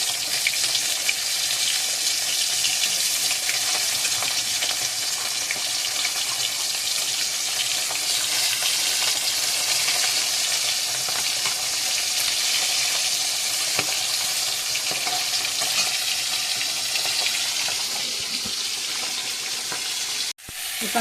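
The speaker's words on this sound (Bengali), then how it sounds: "মাছগুলো এবারে এক এক করে ভেজে নেব।" Fish coated in salt and turmeric frying in oil in a wok, giving a steady loud broadband sizzle that continues unbroken for about twenty seconds and cuts off abruptly at the very end.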